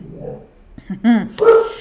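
A dog barks indoors at a delivery at the door, a couple of sharp close barks and a whine following low rustling, with a person speaking nearby.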